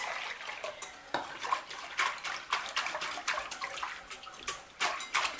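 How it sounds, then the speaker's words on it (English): A second cup of water is poured into milk powder in a bowl and mixed for homemade yoghurt, giving continuous close splashing and sloshing with clinks of a utensil against the container. "Add the second cup of water and mix."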